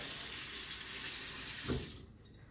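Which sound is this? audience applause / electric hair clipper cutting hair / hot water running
hot water running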